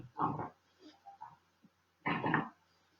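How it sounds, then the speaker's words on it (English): A dog snorts and grunts while tearing at its toy, two rough bursts close to the microphone separated by quieter snuffles, with no talking. "if you hear my dog snorting while he's destroying his toy"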